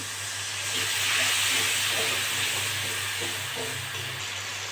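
Water hits frying ground spices in a pan, producing a steady, broad sizzling hiss that holds evenly for several seconds close by.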